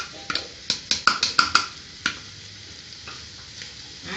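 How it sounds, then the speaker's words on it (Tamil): Boiled moong dal being stirred into a pan with spices, a string of sharp spoon knocks and scrapes against the pan over a faint sizzle, close up. "ஆட் பண்ணிவிட்டு நல்லா மிக்ஸ் பண்ணி விடுறேன்."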